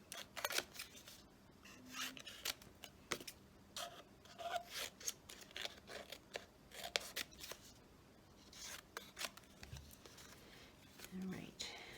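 Scissors snip paper for a journal in quick, faint, irregular cuts close by, with soft rustling and a few brief vocal sounds between them.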